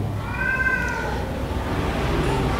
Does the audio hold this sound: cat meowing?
yes